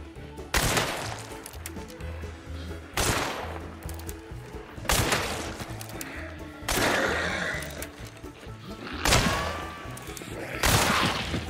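Gunshots during aiming practice in the video game Hunt: Showdown: six loud, sharp shots spaced roughly two seconds apart, each with a booming reverberant tail, and no talking between them.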